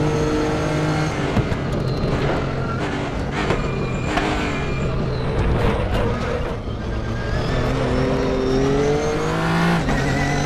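A Nissan GTR race car in RaceRoom roars continuously, its engine note rising and falling through gear changes, loud and close, with a faint hint of tire noise.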